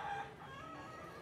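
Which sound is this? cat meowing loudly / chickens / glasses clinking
chickens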